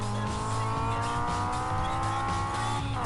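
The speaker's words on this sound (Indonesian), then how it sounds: "Tuh lihat tuh ngedrift tuh." A racing game car drifts through a corner, with a steady engine drone and a long, sustained tire squeal sweeping across the whole stretch, loud and continuous.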